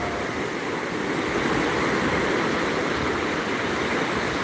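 Steady, dense roar of surf washing continuously, loud and close, like breaking waves on a shore with no voices, at Pantai Wisata Islami beach in Pidie Jaya, Aceh.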